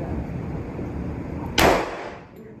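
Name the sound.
45 caliber pistol firing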